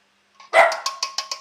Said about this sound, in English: Now she's shouting at me just because I'm here. You horrid little dog. Why are you shouting at me now?